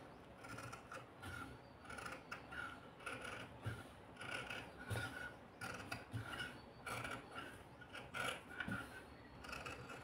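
Scissors cut a round neckline in cloth for cut-work stitching, making soft, close, rhythmic snipping and rasping strokes at low volume, with no talking.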